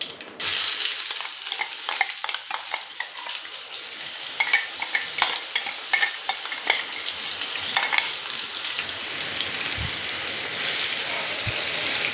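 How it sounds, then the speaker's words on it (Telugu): Spice paste fries and crackles steadily in plenty of oil in a pan, with a spoon scraping and stirring through it in quick, close bursts; a dense, continuous sizzle runs throughout without talk. "పేస్ట్ అంతా నూనెలో వేగాలి పచ్చివాసన పోయిందాక"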